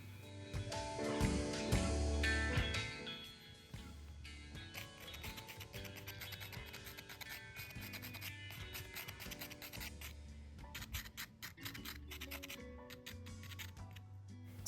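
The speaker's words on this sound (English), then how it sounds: "So you guys could hear the little scratchies, the resistance, that little sandpaper grainy texture I've been mentioning going on the paper" A drawing tool scratches across textured, sandpaper-grainy paper in close, dry, uneven strokes, with rapid scratchy bursts and brief pauses after a louder rustle at the start.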